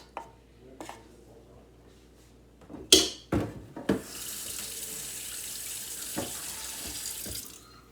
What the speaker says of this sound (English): I'm going to just put this in the sink because I'm going to rinse this out